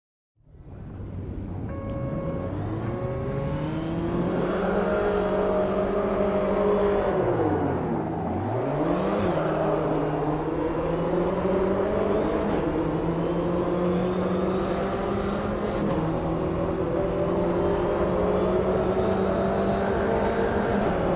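A JCW Mini Cooper races around Kyalami in the Automobilista 2 sim, its engine droning steadily and loud, climbing through revs, dipping sharply on a downshift, then pulling back up with brief gear-change blips.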